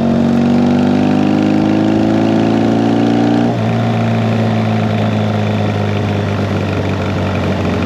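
A motorcycle rides through the city streets of Brockton, Massachusetts, its engine a loud steady drone whose pitch drops and settles at a lower tone partway through, with constant road and wind noise.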